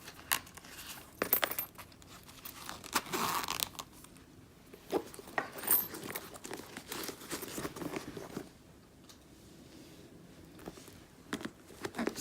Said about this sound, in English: a little zippy coin purse that has some coins